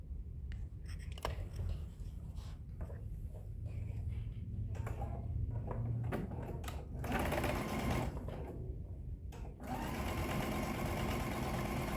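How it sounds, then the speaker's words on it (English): A sewing machine runs steadily, stitching fabric strips together with a 1/4 inch seam for a patriotic table runner, its quiet motor whirring in sustained runs with a few brief pauses. "we're just going to sew those together with a 1/4 inch seam"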